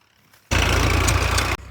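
A tractor engine bursts into a loud, steady roar for about a second, then cuts back to a low idle.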